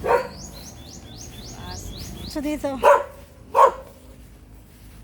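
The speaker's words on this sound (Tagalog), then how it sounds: "Dito na naman yung aso." A dog barks twice nearby, sharp and loud, after birds chirp in the background and a person speaks briefly.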